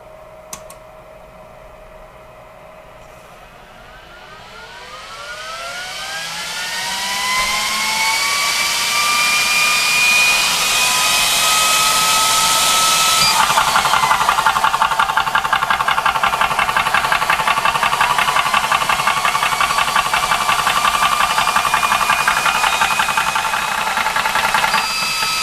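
Personal airgun compressor running with its cooling fans, a loud motor that spins up over several seconds with a rising whine, then settles into a steady harsh mechanical hum with rhythmic knocking, continuous and close.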